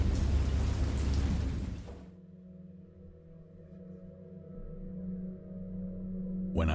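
Sudden storm in a spoken horror story: a burst of heavy rain and thunder rumble, loud at first, then easing into a lower, steadier roar with a fresh crash near the end.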